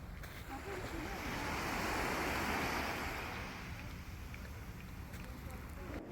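Ocean waves wash onto a beach at Tung Ping Chau island, a soft continuous surge that swells and recedes over several seconds, blended with wind noise on the microphone.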